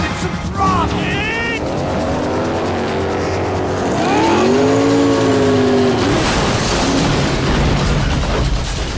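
A speedboat engine is throttled hard near a pier in Max Payne 3, a loud rising roar that swells in the middle and stays strong, with shouted voices over the top.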